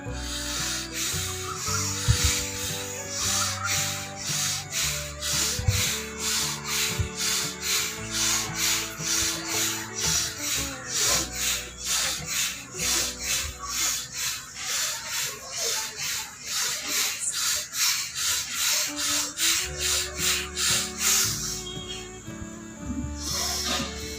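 Forceful bhastrika pranayama breathing: rapid, evenly spaced hissing breaths pushed in and out at roughly two per second, close and sustained for about twenty seconds before a brief pause.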